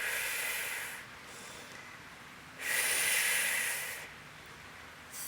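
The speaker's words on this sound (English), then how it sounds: "5 more breaths." Breathing during a Pilates mat exercise in a morning full-body workout, with two long airy exhales through the mouth separated by quieter inhales, close to the microphone with no talking.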